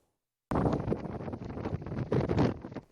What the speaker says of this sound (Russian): Порывы ветра до 20 метров в секунду, сильный снег, низовая метель.